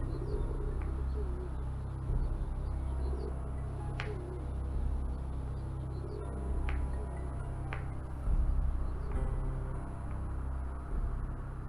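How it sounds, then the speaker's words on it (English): A bird in a point-and-click adventure game coos softly several times over a constant low ambient hum, with no talking. "That bird seems to like it here."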